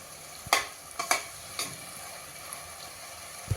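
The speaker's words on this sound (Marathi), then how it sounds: "थोडंसं परतून घेतेय" Vegetables with spinach puree sautéed in a pan for spinach-pea pulao, three quick spoon scrapes early on over a soft continuous sizzle, then mostly steady frying.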